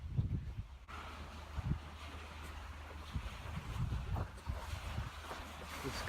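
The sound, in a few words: wind blowing at a lakeside beach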